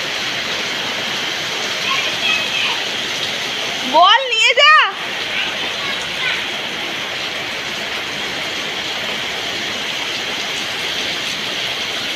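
Rain falling in Kerala where children are playing ball outdoors, a dense, steady hiss throughout, with a short shouted voice partway through.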